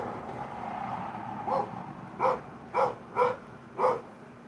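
A lone puppy barks in a series of five short, distinct yaps after a softer whimpering stretch, heard fairly close with nothing else around.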